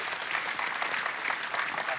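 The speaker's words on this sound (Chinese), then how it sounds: "掌声欢迎！" An audience claps steadily at a party gathering as a man is called onstage to draw a prize, a dense even patter of applause at moderate loudness with no clear voices.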